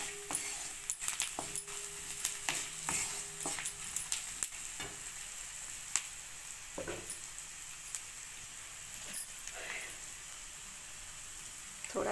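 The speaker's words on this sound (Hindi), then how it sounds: "इसमें हम थोड़ा सा हल्दी डालेंगे और इसको भूनते रहेंगे जब तक कि ये लाल ना हो जाए" Mixed vegetables with turmeric stir-fry in a pan for paratha filling, a faint steady sizzle broken by repeated sharp clinks and scrapes of the spoon against the metal.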